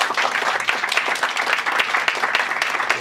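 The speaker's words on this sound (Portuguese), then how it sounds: "peço uma salva de palmas" An audience in a packed auditorium at a political gathering breaks into sustained applause, a dense, steady clatter of many hands clapping close by with no voices on top.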